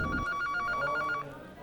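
Telephone ringing in a radio drama, a repeated electronic ring pattern in quick pulses, close and clear, stopping after about a second and a half with no talk over it.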